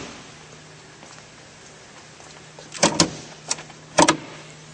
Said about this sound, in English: Pop the hood, take a look underneath.